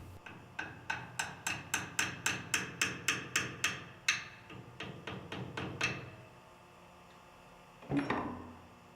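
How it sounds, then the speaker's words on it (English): A mallet taps bolts into the holes of a sprocket hub, about a dozen sharp, evenly spaced knocks, then a looser run of lighter taps, a pause, and one final louder strike, close and with no voices. "The bolts should fit snug and require a light tap from a mallet to be installed in the hole."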